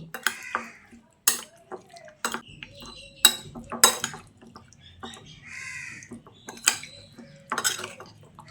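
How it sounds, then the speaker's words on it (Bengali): A spoon scrapes and clacks in a bowl while chicken is mixed into a curry marinade of yogurt and mustard oil, in irregular close knocks, with crows cawing in the background. "এবার সব কিছুকে ভালো করে নেড়েচেড়ে মিশিয়ে নিচ্ছি।"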